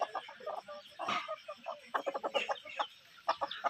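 A rooster clucks repeatedly in short, choppy bursts, close and fairly loud, with brief pauses between runs of clucks.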